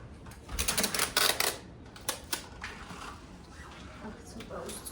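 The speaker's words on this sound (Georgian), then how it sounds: "ეხლა დრო უკვე წებოვანი ლენტი გავაკრათ" Adhesive tape being pulled and pressed onto a glassed-in veranda ceiling during a village painting job, heard as a few sharp, crackly ripping bursts up close, with a person talking in between.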